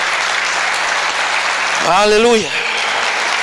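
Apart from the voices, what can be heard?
church congregation applause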